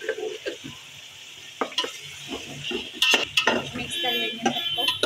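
Ginger-garlic mixture with warm spices being stirred in a pan, with scraping and clinking of a utensil against metal over a low sizzle, in irregular bursts.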